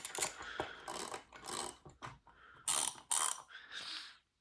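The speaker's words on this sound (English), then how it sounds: "all these ratchets right here, which they all work" Socket ratchets handled one after another, producing bursts of rapid close metallic clicking in short uneven runs separated by brief pauses.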